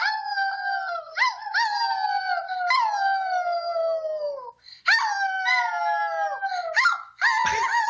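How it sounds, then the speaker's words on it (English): An old dog and two girls howl together in a recording, long sliding wavering howls rising and falling in several drawn-out phrases with brief pauses between them, fairly loud and close. "my two daughters getting their old dog's howl on"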